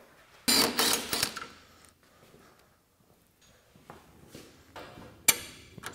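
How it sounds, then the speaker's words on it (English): Someone works on the shock and A-arm of a Polaris RZR 1000 side-by-side, making bursts of metallic clanks, creaks and tool rattles up close, separated by quiet gaps. "we're going to jump right in and disconnect the shock from the A-arm"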